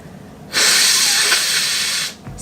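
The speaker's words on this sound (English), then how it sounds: "I blow my nose first." A single long, forceful nose blow into a tissue, a steady breathy hiss of about a second and a half, close and loud, starting and stopping abruptly against quiet room tone.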